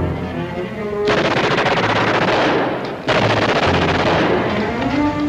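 Machine-gun fire in a 1963 war TV drama blasts in long, loud sustained bursts, roaring on, breaking briefly around the middle, then resuming with full force, dense and close.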